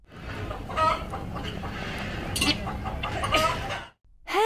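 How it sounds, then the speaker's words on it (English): A hen clucking in short, moderately loud bursts, close by, with a few sharp squawks and no talking. "Hen."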